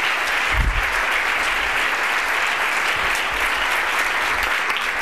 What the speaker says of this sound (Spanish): Un aplauso para Nacho